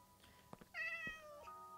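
Minecraft cat meows in a game world, one clear drawn-out meow at moderate loudness with faint background game sounds and short clicks before it.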